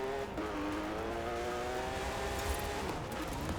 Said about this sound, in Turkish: Şöyle Porsche'le yavaş yavaş gidelim bakalım.